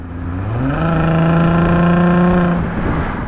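A Volkswagen Atlas VR6 engine with a B2B Fab Wookiepipe exhaust revs up into a deep, throaty exhaust growl, holding steady and loud before easing off near the end.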